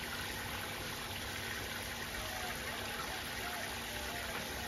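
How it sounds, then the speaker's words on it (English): A pump drains water out of an off-grid desert shower, making a steady, loud, close rushing hum with a liquid gush that holds without pause and has no talking. "And the pump pumps everything out."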